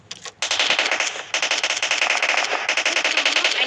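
Gunfire in the BGMI battle royale mobile game, with quick loud shots in a fast rattling string broken by a couple of brief pauses, close and punchy.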